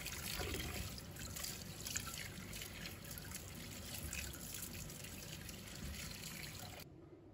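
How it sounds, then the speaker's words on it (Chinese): Chinese yam is rinsed under running tap water in a kitchen sink, a close, steady splashing stream with drips that continues unbroken before cutting off abruptly near the end. "用流动水把它清洗干净，先把它表皮的泥沙去除干净。"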